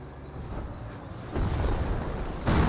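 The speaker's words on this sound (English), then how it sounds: "Good Panzer shots there onto the M10" A Panzer tank fires its gun in the WWII strategy game Company of Heroes: heavy booming shots over a rumbling battlefield bed, with two distinct blasts landing about a second apart.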